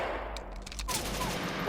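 Gunfire in a video game, a brief rapid cluster of shots over a steady noisy game background, fairly close and continuous for under two seconds.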